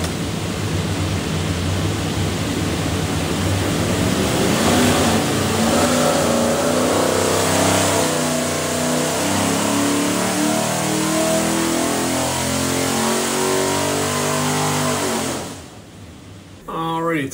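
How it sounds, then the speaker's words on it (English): A 347 stroker small-block Ford with Inglese stacked injection, built for a Factory Five Cobra, revs loudly and steadily on a dyno for about fifteen seconds, then cuts off abruptly. "here's your 347 small block Ford"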